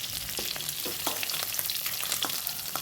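Broken pieces of hilsa fish frying in hot oil, a steady close crackling sizzle with small irregular pops and spatters throughout.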